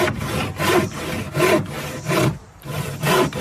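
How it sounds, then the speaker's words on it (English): A hand saw cuts through a piece of wood in steady, rhythmic strokes, about six loud rasping pushes and pulls heard up close and alone, with no talking. "when you use a saw, you're sawing"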